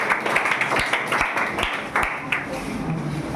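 An audience at a class 10 boys' quiz competition grand finale breaks into applause, a dense spread of overlapping claps that rises and then tapers off, with talk carrying over it.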